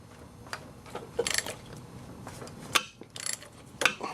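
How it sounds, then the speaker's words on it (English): Ratchet clicks on an Allen socket turning an engine bolt on a 1.8T AEB/ATW engine, in several short sharp bursts of clicking separated by quiet pauses, close and moderately loud. "Put the ratchet in, push in on the ratchet while you try and twist"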